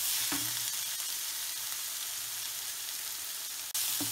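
Chopped onions sizzle steadily in hot oil with pepper powder for a pepper chicken fry, a constant close hiss with a couple of brief stirring knocks at the start and end.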